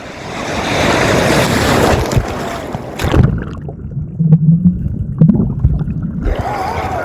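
Sea waves wash and break on a shore at a river mouth, a broad continuous surf roar with wind buffeting the microphone and a brief lull before the surge builds again; faint voices sit underneath.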